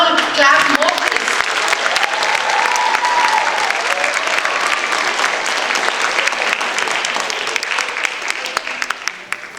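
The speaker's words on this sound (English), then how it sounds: "Can you all clap more, please?" Sustained audience applause at an awards ceremony, dense steady clapping from a large crowd that carries loud and even for the full stretch before thinning slightly at the end.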